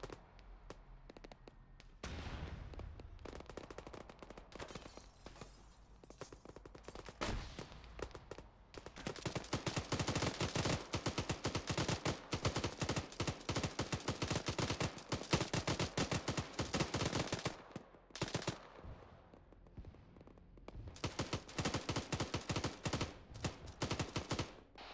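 Long bursts of automatic fire from a PKM machine gun in the video game World War 3, loud and rapid, broken by short pauses, with other shots mixed in.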